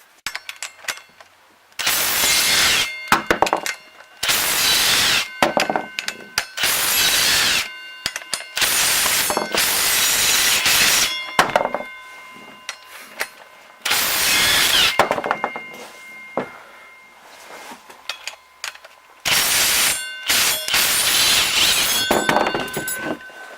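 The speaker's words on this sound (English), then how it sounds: "So now we have to remove this flex plate, and it's held on by just these bolts here on the crank." Hand tools and an impact or ratchet work the bolts holding a flex plate onto an engine crankshaft during a Honda CR-V five-speed manual swap, repeated loud bursts of rattling, buzzing effort separated by short silent gaps.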